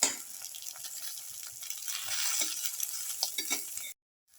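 Black pepper and green tomato omelette frying in a pan gives a steady crackling sizzle with small pops, close and moderately loud, cutting off abruptly near the end.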